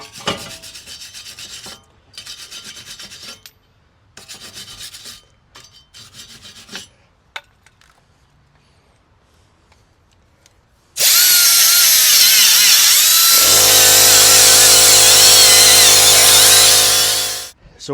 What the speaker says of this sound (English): So we're just going to clean up the surface here again with the wire wheel and the brush